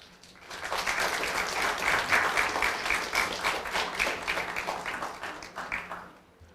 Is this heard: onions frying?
no